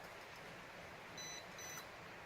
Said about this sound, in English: once you hear a beep, the next rotation is going to be like this